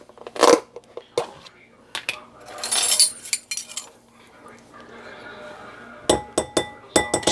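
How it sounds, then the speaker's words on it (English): A whisk stirs dry ingredients for keto naan, almond and coconut flour, in a bowl, with irregular scrapes and metallic taps and then a quick run of sharp clinks near the end, no talk. "just whisk the dry ingredients together"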